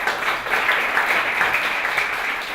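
Steady audience applause from a startup competition crowd, sustained and fairly loud throughout with no talking over it.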